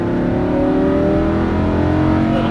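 Lamborghini Huracan LP610-4 engine pulling hard at full throttle on a track, a loud steady mid-pitched drone with rising harmonics, close and continuous with no pauses.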